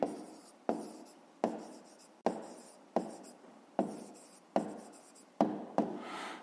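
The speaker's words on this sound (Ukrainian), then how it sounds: "Записуємо відповідь. Пишемо відповідь." A pen writing an answer on paper in a fifth-grade maths exercise, about nine quick scratchy strokes in a steady rhythm, close and quiet with no talking.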